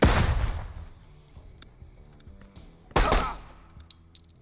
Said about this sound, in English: I'm gonna get a flashbang out.